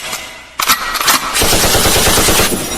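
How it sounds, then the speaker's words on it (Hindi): Loud machine gun fire rattles close by, a few sharp shots followed by a sustained rapid burst of gunfire. "शोर से नहीं, गोलियों से आवाज होगा।"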